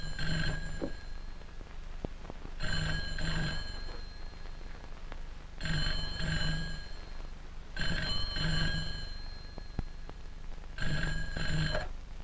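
Old 1940s telephone bell ringing in repeated double bursts with short pauses between them, clear and fairly close in a quiet room, with no talk.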